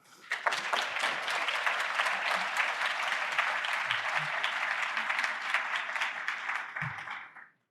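Audience applause welcoming a keynote speaker at the 2023 Markets and Society Conference, a steady, dense crowd of clapping that holds evenly for several seconds before quickly fading out.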